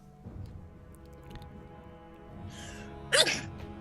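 A single quick sneeze bursts out near the end after a stretch of quiet, faint room noise, with no talking.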